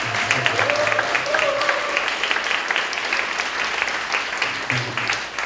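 Steady applause from a church college-group congregation during a Sunday worship service, celebrating a newly married couple, with a few voices murmuring beneath the continuous clapping.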